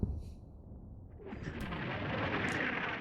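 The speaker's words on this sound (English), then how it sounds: "And now that mortar fire is targeting my troops that are moved over to this side" Mortar artillery fire in the World War II strategy game Combat Mission Final Blitzkrieg, heard as a deep rumbling blast that swells into a sustained, hissing roar of explosions, moderately loud.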